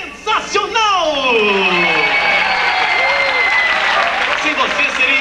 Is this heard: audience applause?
yes